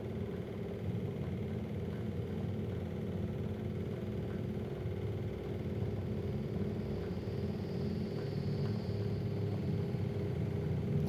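Newman motor running steadily, a constant low mechanical hum and whir at even loudness with no change in pitch, heard alone.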